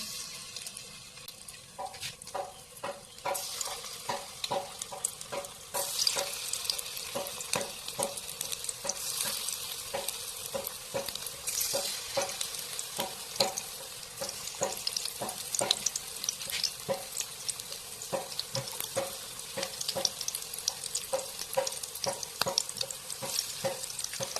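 Steady, close sizzle of food frying on an oiled tawa griddle, with light scraping and clicking strokes running throughout and no talking.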